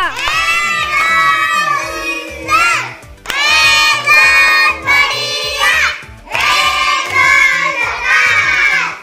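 Children in a game setting cheer and shout loudly for the winner, voices rising in bursts with short breaks between, crowd noise near and energetic.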